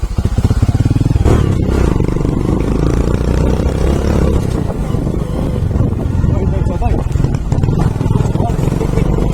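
A motorcycle labours loudly along a rough off-road mountain road near Bhojpur, Nepal, its engine revving and chugging unevenly with rattling clatter and wind noise, close to the microphone, while riders talk over it.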